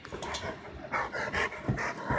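A dog pants in rapid, steady breaths close by, with small shuffles and movement around it and no talking.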